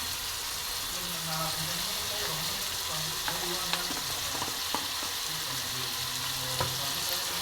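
Bamboo shoot with turmeric fries in a pan, a continuous sizzle broken by occasional clinks and scrapes of stirring, while someone talks over it at a moderate distance.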